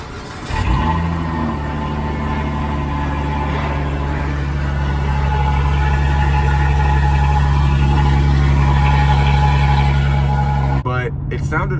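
V6 car with its mid muffler deleted, exhaust droning loud and steady at a low idle-like rumble after a quick start, slightly raspy, ending abruptly.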